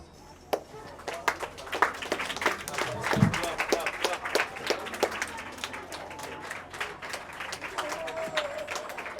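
An audience at a school donation event in Sierra Leone claps in a loose, irregular patter of sharp hand claps, with voices talking underneath.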